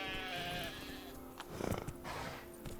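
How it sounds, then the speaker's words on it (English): Sheep bleat in open fields in The Witcher 3: Blood and Wine, with a short, wavering cry rising over soft ambient game music and background. "Sheep everywhere."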